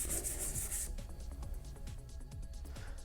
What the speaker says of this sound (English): I've gone over everything with the sort of medium grit sanding stick